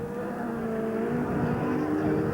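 F2 race cars on the last lap of a 1993 British heat, a sustained engine drone with shifting pitch, moderately loud and steady over a short stretch with no talk.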